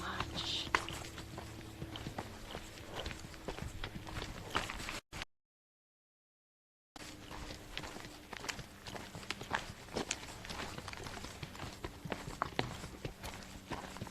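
A cow walking at a zoo with Kayla the keeper nearby, repeated soft thudding hoof steps at an uneven pace close by, interrupted by a brief total dropout, then resuming with low background noise.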